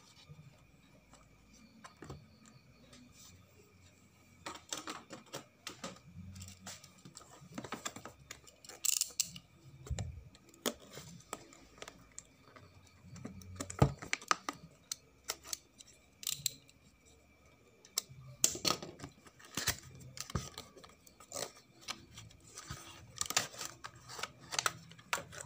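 A cheap remote-control toy car comes out of its box with quiet crinkling plastic, scattered clicks and light handling noises, close and faint, in fits and starts across the clip.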